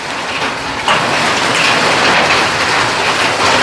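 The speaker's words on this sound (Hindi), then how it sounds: "अब देखोगे आप लोग तो ओले भी पड़ना शुरू हो गए हैं भाई" Hail and fine rain fall steadily in an Uttarakhand mountain village, a dense continuous hiss of small pellets and drops on surfaces, loud and close, with a brief rise in intensity near the start and no voices.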